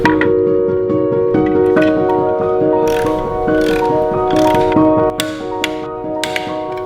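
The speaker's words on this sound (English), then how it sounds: "Each click means the bolt has reached the predetermined torque setting." A torque wrench clicks as it tightens the clutch pressure plate bolts during an electric conversion build of a 356 Porsche Speedster, giving sharp, repeated metallic clicks over a steady humming tonal background.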